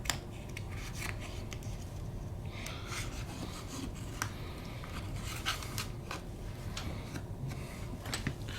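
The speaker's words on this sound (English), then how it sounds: "get any excessive adhesive off of the main frame up to the side here." A tool scrapes excess adhesive off the frame of a Google Pixel XL during a battery replacement, giving faint, quick rasping scratches and ticks in short irregular bursts over a quiet background.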